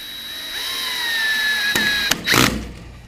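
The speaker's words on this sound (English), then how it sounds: "We're gonna put 3 screws in each hinge for a total of 6" Power drill driving 1 1/4 inch all-weather screws into hinges on a hay feed rack, a whining motor that winds up over a couple of seconds, then sharp clicks and a short rough burst as the screw seats.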